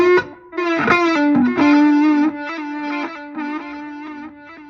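Electric guitar played through a Positive Grid Spark 40 amp with reverb, a series of sustained distorted chords that ring out and fade into a reverb tail, loud and close with no talking.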